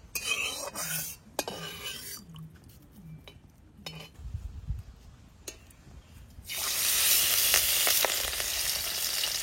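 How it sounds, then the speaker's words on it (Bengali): Fish, Bangladeshi hilsa, hitting hot oil in a wok: a loud, bright burst of sizzling erupts near the end and holds steady, after a stretch of scattered clinks and kitchen handling sounds. "এই মাছ ভাজবে"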